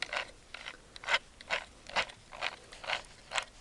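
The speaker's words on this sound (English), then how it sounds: "this wheel moves the needle up and down so that you can start a new project, get the needle up." A Sunbeam Singer battery-operated handheld stitcher's wheel is turned to move the needle up and down, giving a quiet, regular series of about eight soft mechanical clicks, close and isolated.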